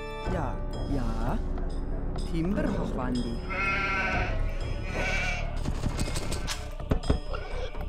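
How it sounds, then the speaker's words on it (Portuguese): Sheep bleat repeatedly in an Age of Empires 2 match, short wavering cries over game music and effects, with a burst of sharp clatter near the end; someone talks over the game throughout. "Estão ali as duas ovelhas."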